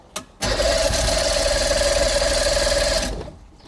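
Damaged boat engine sputtering to life on starter fluid after a brief crank, then running loud and steady for about three seconds before cutting out, heard up close with no talking.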